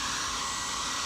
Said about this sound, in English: hair dryer just to make sure it was nice and dry before I started doing anything